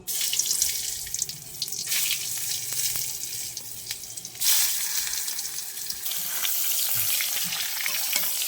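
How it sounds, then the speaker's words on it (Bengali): Young jackfruit pieces fry in oil and ghee, giving a steady broadband hiss with brief surges and stirring scrapes, loud and close with no talk. "এবার ইঁচড়গুলো আমি লাল লাল করে এতে ভেজে নেব।"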